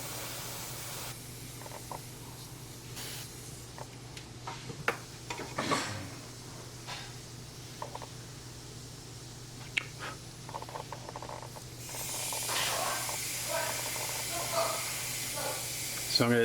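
Bursts of aerosol spray paint hiss onto a 1/4-scale Deadpool figure, short at first and then a long continuous spray near the end, with light ticking in between.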